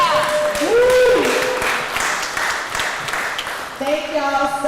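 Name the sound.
audience clapping and applauding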